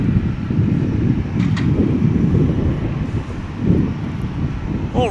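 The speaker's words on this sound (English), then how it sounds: "I'm sure you can hear the gusting wind in the background here." Steady gusting wind buffets the microphone at an airport during plane spotting, a continuous low rumble that swells and eases throughout, with a brief whistling tone near the end.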